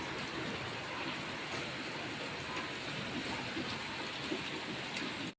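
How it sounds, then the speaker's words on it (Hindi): Heavy rain pours down in a steady, dense hiss that stays loud and even throughout, with no voices over it. "तो गाइस देखिए बारिश कितनी तेज हो रही है"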